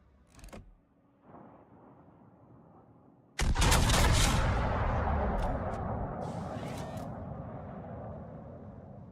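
Warship gun salvo in World of Warships, a sudden loud booming blast that rolls into a long rumbling decay, preceded by a couple of fainter distant thuds.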